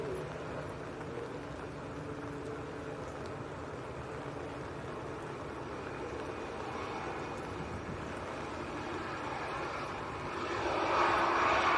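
An Airbus A319 airliner at Manchester airport fills the air with a steady, broad engine roar that grows louder and brighter toward the end.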